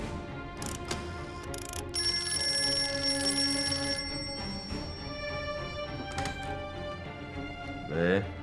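Old-style telephone bell ringing in a wartime drama scene, a repeated metallic ring that stands out clearly for a few seconds, followed by a voice near the end.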